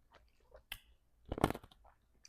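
Close, crisp crunching of ice being chewed comes in a few irregular bites, with one loud grinding burst in the middle and quiet pauses between.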